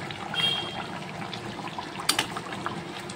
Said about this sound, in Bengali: তো গরম জল দিয়ে দিলাম, খুব বেশি জল দিইনি